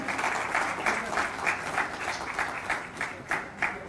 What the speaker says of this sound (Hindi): तालियां लगातार होती रहे।